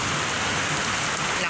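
Heavy rain pours down outdoors in a steady, dense hiss that fills the whole clip, loud and close, with a breezy edge and no pauses.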